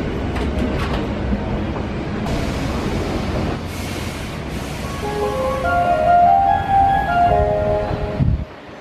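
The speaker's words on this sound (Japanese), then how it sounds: "皆様、まもなく5号線に京都河原町方面に向かう電車が到着します。" A Hankyu Kyoto Line train at Juso station rumbles loudly through the platform with a steady roar, clattering wheels and rising brake squeals, all close and continuous with no talking.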